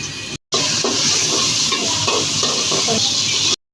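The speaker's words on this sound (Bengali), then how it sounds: "এখন বাগার দেব। এখন দিয়ে দেবো রসুন আর পেঁয়াজ," Garlic and onion frying in hot oil as the tempering for a taro curry make a loud, dense, close-up sizzle that crackles continuously, with brief dropouts at the very start and end.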